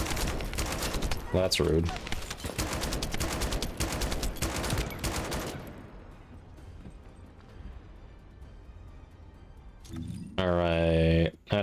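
Enemy gunfire in The First Descendant, dense rapid bursts of shooting for the first five seconds, under game effects and a voice speaking briefly, then fading to a quiet lull before another loud swell.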